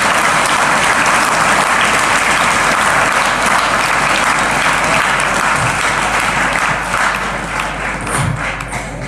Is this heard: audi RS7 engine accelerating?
no